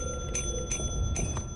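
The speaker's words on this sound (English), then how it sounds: "Keep ringing the bell." A bell in the Lethal Company video game is rung again and again, giving about four bright metallic dings at an uneven, hurried pace over a steady low background hum.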